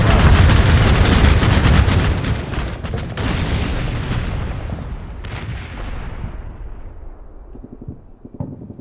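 Tanks blow up in Combat Mission Black Sea: a heavy, close explosion rumbles and slowly fades, with scattered distant bangs and a steady high insect-like whine lingering after.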